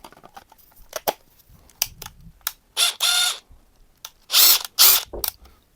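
A DeWalt impact driver made in Mexico, running unloaded in a few short, loud whirring bursts, separated by light clicks and handling noises nearby.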